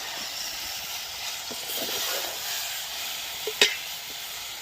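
Water poured into a hot pan of guava curry over a wood fire in a village kitchen gives a steady loud sizzle and hiss, with a brief clatter near the end and no talk.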